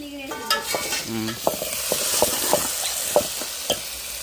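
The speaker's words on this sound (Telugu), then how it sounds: "బాగా ఫ్రై అయిన తర్వాత గోంగూర వేసుకున్నాం" Beef frying in a pan with fresh gongura leaves, a close steady sizzle punctuated by a rhythmic series of scraping stirs and clinks, with no talking.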